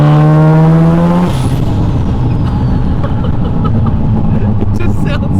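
Turbocharged 13B rotary engine in a Mazda RX7 FB, roughly 730 hp, revving hard with a rising tone that breaks into a rough, loud drone as the car drives on, close and dominant.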